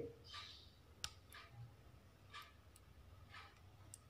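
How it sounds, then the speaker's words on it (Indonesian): Several small, faint clicks spaced irregularly, a smartwatch's plastic part snapping into place, heard alone in a quiet room. "ada bunyi klik seperti itu"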